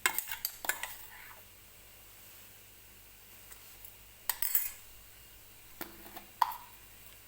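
A spoon scraping and knocking against a pan while mung dal kachori filling is stirred, giving scattered sharp clinks with quiet gaps between them, close by and without speech.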